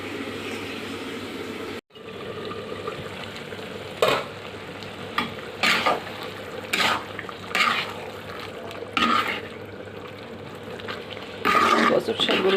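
Taro leaves stirred and fried dry in a pan, a continuous sizzle broken by repeated bursts of scraping and tossing from the spatula, close and fairly loud, with a brief dropout early on.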